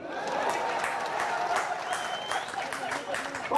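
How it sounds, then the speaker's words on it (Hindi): Sustained applause from a crowd at a Congress political rally, dense clapping filling the whole stretch, with voices mixed into the noise. "तो ठोको ताली।"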